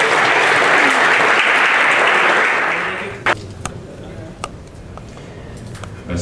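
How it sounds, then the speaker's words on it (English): An audience at the opening ceremony of The Good Idea Jam breaks into loud, sustained applause for about three seconds, then it dies away into a few scattered, isolated claps. "Once again, please give a big round of applause."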